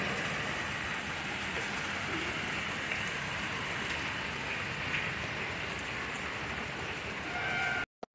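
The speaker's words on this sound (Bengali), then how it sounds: "সকাল সকাল শুরু হয়েছে বৃষ্টি" Morning rain falls in a dense, even hiss of drops that holds steady throughout, then cuts off abruptly at the end.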